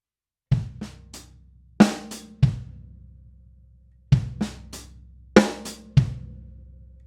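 A drum kit plays the first half of a go-go groove, straight rather than swung: loud, close hits of kick, snare and cymbal fall in two matching bursts with short gaps of silence between them.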